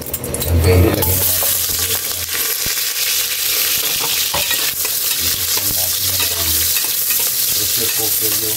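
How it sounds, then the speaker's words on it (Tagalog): Chopped onions sizzle and fry steadily in a pot for a nourishing pork broth dish, with a loud burst as they first hit the oil, then continuous crackling with occasional stirring clinks. "Ilalagay na natin Kaylee ng ating sibuyas."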